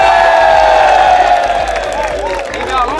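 Large crowd of soldiers and police at an Indonesian military and police event cheering and applauding loudly, dense clapping with shouts and whoops in a sustained, close roar.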